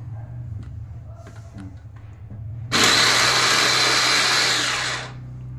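An electric chopper whirs loudly for about two and a half seconds as it chops a few onions, rising sharply from a quiet kitchen with faint background talk, then cutting off.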